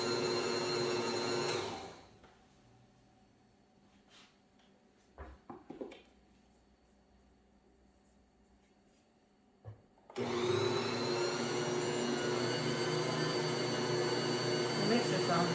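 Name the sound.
stand mixer running while making bread dough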